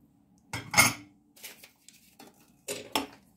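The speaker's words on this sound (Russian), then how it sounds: "Все хорошенько смешиваем, чтобы все перемешалось" A spoon knocks and scrapes a few times in a bowl while vanilla, cinnamon and cardamom are mixed, three quiet separate bursts of clinking with silence in between.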